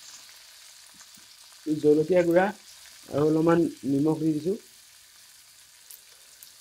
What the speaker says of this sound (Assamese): গোটেইখিনি ভালকৈ মিক্স কৰি অলপ সময় ভাজি ল'ম।